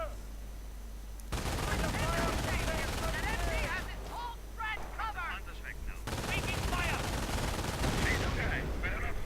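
Rapid machine-gun bursts and thudding mortar impacts rattle through a WWII strategy game skirmish around an M8 armored car, loud and continuous with brief pauses between volleys.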